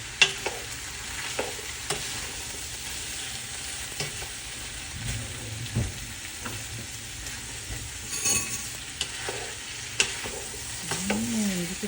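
Chopsuey being stirred in a frying pan, seasoned with chicken bouillon and pepper: steady scraping and tossing strokes over a constant low sizzle, close and fairly quiet, with no talking.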